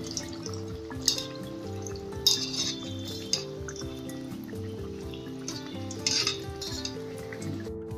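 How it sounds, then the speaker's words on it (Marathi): Vada pav batter frying in hot oil, a steady close sizzle with a low hum beneath and occasional clinks of a spoon against the pan, no talk. "तेल गरम झालेलं आहे, व्यवस्थित ह्याला फ्राय करून घ्यायचं आहे"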